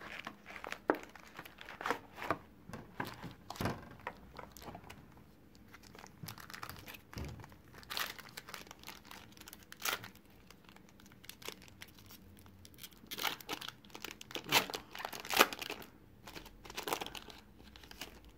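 Foil booster packs of Pokémon SL11 cards being torn open one after another, with irregular close crinkling and sharp ripping bursts across the whole stretch and no talking.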